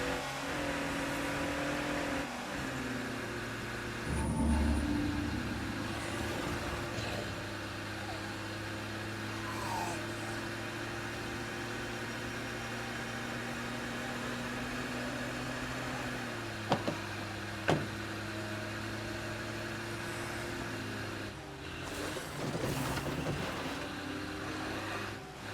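Engine of a vehicle driving in State of Decay 2, a steady droning hum that holds throughout with a brief rev near the start and small clunks later, loud and continuous with no talk.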